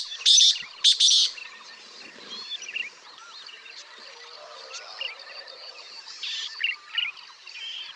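Recorded bird call played back: bright chirps and whistled trills, two loud bursts at the start followed by a quieter chattering series of tweets and a few louder notes near the end, alone without talk.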